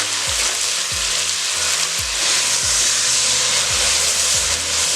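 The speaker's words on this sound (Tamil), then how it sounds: "வெங்காயம் வந்து நல்லா செவக்க வதக்கிடணும்" Large onions frying in a pan for chicken dum biryani, a loud, dense hiss of sizzling oil with a low knock every second or so from a spoon stirring against the pot.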